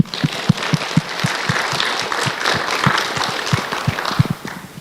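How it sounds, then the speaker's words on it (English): Audience applause for the special guests at a youth champions competition and award ceremony in Toronto, Canada: steady, moderately loud clapping from a crowd, with sharper individual claps standing out throughout. "So please give them a warm round of applause."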